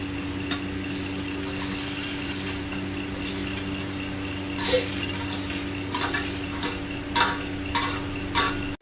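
Spices and garlic dry roasting in a pan for a country chicken fry, heard as a low steady background hum with occasional utensil scrapes and clinks against the metal.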